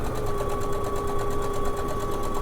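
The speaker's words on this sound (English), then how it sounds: "Do you see that I can just start sewing again and I don't have to hold my threads or anything?" A sewing machine runs steadily while stitching a homemade fabric face mask for hospital use, a continuous close whirring hum with fast even needle rhythm throughout.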